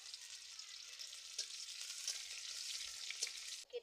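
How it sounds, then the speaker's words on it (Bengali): Chopped onion drops into hot oil and fries with a continuous bright sizzle, fairly close and steady, with a few soft pops and a short clatter at the end. "কেটে রাখা পেঁয়াজ দিচ্ছি তেলের উপর।"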